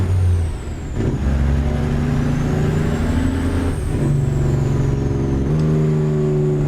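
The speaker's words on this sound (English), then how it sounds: "Definitely truck." A heavy truck engine in the American Truck Simulator game drones steadily with a low rumble, shifting pitch as it changes gears at intervals, with a faint hiss of air brakes, no voices.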